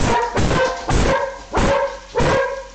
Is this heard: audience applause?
no